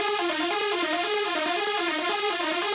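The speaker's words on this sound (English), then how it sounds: "So now we got a cool little ARP type sound here." Layered synth arpeggiator patterns in Ableton Live, built for hard wave, ring out as a bright, busy cascade of rapid repeating notes, loud and continuous with no voices, then cut off abruptly at the end.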